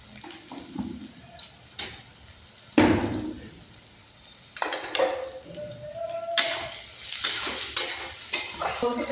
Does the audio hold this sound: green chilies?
yes